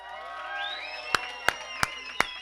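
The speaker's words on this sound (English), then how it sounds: "Come on, give her a big round of applause" Whoops and cheers rise from a gala charity auction audience after a lot sells, with four sharp, evenly spaced claps standing out near the end.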